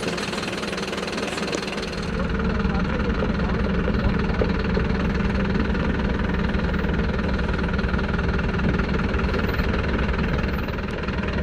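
A Mercedes Vario camper grinds offroad into a deep hole, its heavy diesel engine kicking in after a brief quieter moment, then a loud, steady, close-up labouring rumble that holds to the end.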